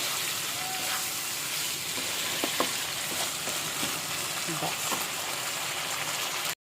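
Vegetables fried crisp in a pan, a steady close sizzle with a few soft clinks and scrapes of stirring, ending in sudden silence.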